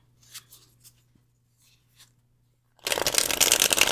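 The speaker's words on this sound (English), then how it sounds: "Well, if I could shuffle. I'm not shuffling very well today" A deck of tarot cards is shuffled in one loud, dense burst of riffling near the end, after a quiet stretch of faint taps and soft handling of the cards.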